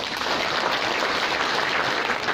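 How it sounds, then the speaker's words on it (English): Sustained applause at a launch event fills the room, a dense steady wash of many hands clapping with no gaps, loud and even throughout. "Let us please give them a round of applause."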